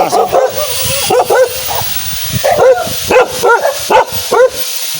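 Several loud, close dog barks and yips come in quick irregular bursts, with a few whimpering notes between them, outdoors at a rural home.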